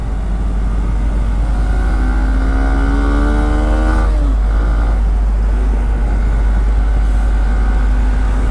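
A Hero Xpulse motorcycle accelerates on a main road, a steady loud engine drone climbing in pitch through a gear change, heard close from the rider's position with constant wind rush.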